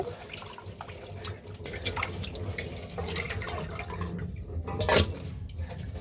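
Tap water runs and splashes while prawns are rinsed in a kitchen, a steady close stream with drips and a sharper splash near the end, no talking.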